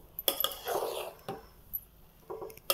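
A spoon stirs cooked masala rice in a cooking pot, giving a few scattered clinks and soft scrapes against the metal at close range, with quiet pauses between strokes.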